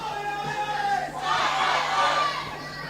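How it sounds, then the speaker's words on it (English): A wrestling crowd at ringside is being wound up by a showboating wrestler. A loud, roaring mix of shouts and jeers swells midway, with voices blending into a dense crowd noise. "I think the audience are being wound up."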